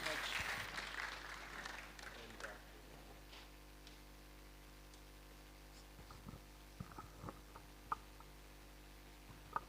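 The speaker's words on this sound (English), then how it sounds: "a round of applause as we appreciate our Reverend" Audience applause for a reverend at a ten-year anniversary celebration, a brief burst of clapping that fades within a few seconds into a quiet room with scattered small clicks and knocks.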